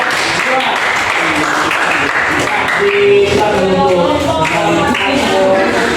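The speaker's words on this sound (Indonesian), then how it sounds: "mari kita berikan aplaus kepada kelompok" A classroom audience applauds a student group after their presentation, steady clapping from many hands with voices talking over and among it throughout.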